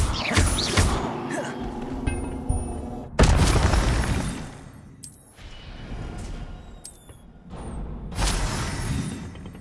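An Incendio fire spell cast in a Hogwarts video game, several loud bursting blasts and crackling smashes at intervals, with a fiery whoosh and debris noise between them.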